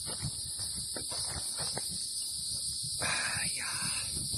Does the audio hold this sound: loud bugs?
yes